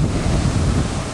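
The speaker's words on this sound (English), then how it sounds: "It's also quite windy." Strong wind buffeting the open deck of the ship MS Richard With, a steady broadband roar that rumbles against the microphone, with no voices.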